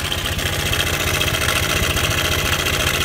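A motorcycle engine idles steadily up close, a continuous low throbbing hum with a faint rattle from the clutch, with no voices over it.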